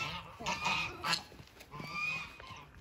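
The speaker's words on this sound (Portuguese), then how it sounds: "São os gansos." Geese honking outdoors at a family mountain getaway, several loud nasal calls in bursts with short gaps, close by, with faint background sounds between calls.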